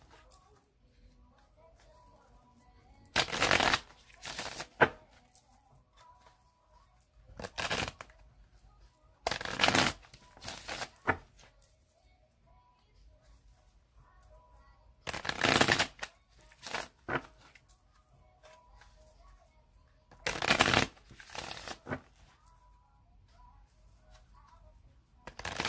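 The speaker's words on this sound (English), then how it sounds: "I'm going to shuffle it 3 more times" A deck of cards being shuffled in several separate bursts of riffling spread across the span, close and crisp, with quiet gaps and faint talk between them.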